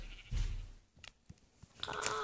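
A baby sheep bleats in the video game Minecraft, a few short bleats separated by brief quiet gaps, moderately loud with some background noise.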